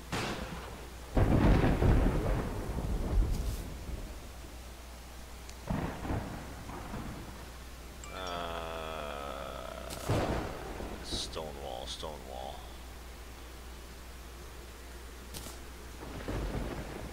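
Thunderstorm in the Terraria video game: heavy rumbling thunder crashes with wind and rain, broken up by sharper bursts and brief game tones over about seventeen seconds.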